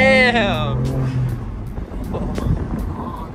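BMW F80 M3 fitted with front mount intakes, a loud nearby engine rev that rises briefly then drops away, followed by people talking over a low idle.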